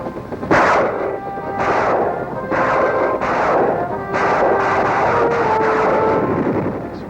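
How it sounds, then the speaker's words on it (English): Military helicopters fire rockets in a Vietnam War combat scene, heard as a loud, continuous roar of repeated blasts and rushing bursts in quick succession, with no voices. "Helicopters bombarding the enemy with rockets."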